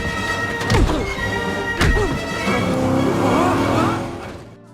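Cars roaring through a movie car chase, loud engines revving and sweeping past with tire squeal and skidding, two sharp impacts cutting through a dense, continuous wall of action noise and music.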